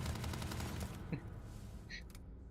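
Rapid bursts from a Grendel rifle in Starfield, the rounds blending into a dense, continuous volley with heavy recoil for about the first second, then thinner scattered shots and game ambience.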